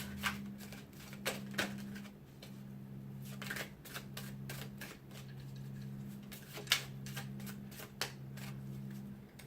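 Tarot cards being shuffled by hand during a reading, a series of soft, crisp riffling flicks and taps close by over a faint steady hum, with no speech.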